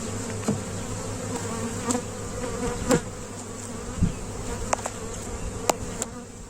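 Dense, steady buzzing of many honeybees at an open hive fills the air at close range, with occasional light knocks and clicks from frames being handled nearby.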